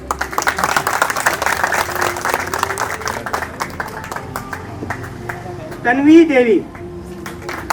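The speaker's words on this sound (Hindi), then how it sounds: "तालियों की आवाज बच्चों के जोर से कम है।" Schoolchildren clap at an outdoor Independence Day celebration in Jammu, a busy patter of light hand claps, while a voice calls out a name near the end.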